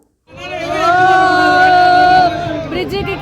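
Passengers aboard a cruise boat on the Ganges raise a loud, sustained collective cheer of voices holding a tone together, close and strong for about two seconds before trailing into looser shouts.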